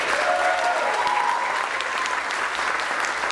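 A crowd at a guitar performance applauds to welcome a guitarist onstage before a song, loud dense clapping that holds steady with faint cheering mixed in.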